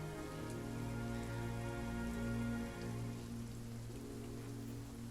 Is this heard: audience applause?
no